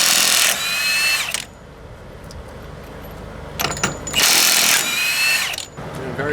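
A Milwaukee FUEL brushless 1-inch cordless impact wrench hammers in two loud, rattling bursts with a quieter stretch between them, close up.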